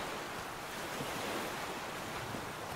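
River water in the video game Flame in the Flood flows as a steady, soft, even wash that holds constant throughout with no voices.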